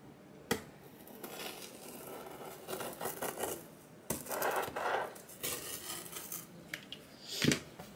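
Scissors snip through a cotton shirt in a few quiet, uneven cuts, with soft crisp clicks and fabric rustle scattered across several seconds.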